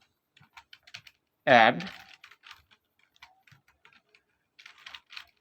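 Someone types a command on a computer keyboard, producing scattered light clicks in short bursts, with one brief spoken word partway through.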